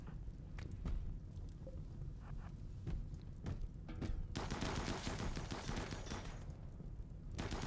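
Gunfire in the RimWorld colony game: rapid clusters of small sharp shots and bursts, fairly faint and distant, with a denser noisy stretch of sustained firing midway.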